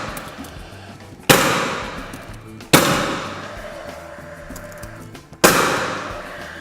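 A Paslode nailer drives 8-penny finishing nails into a sidelight door frame: three sharp, loud cracks spaced a second or two apart, each trailing off, with light handling noise between.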